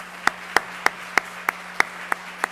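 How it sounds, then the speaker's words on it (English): At an outdoor city Juneteenth celebration for the mayor and his team, a single pair of hands claps in a slow, evenly spaced rhythm, about eight distinct claps, close and clear. "Let's give them a applause."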